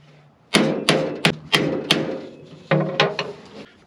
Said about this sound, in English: Good old impact screwdriver is probably the thing to use here.